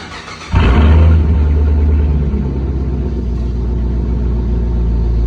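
A car with a 6.0 engine fires up with a sudden loud burst, then settles into a deep, throaty rumbling idle through a Solo Performance exhaust, steady and close.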